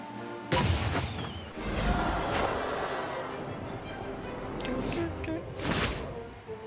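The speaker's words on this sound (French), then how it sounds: "J'ai juste à allumer le canon." Cannon firing in the Lego Batman: Legacy of the Dark Knight video game: a heavy boom followed by crashing, rumbling debris, with further thuds and smaller blasts trailing off amid game noise.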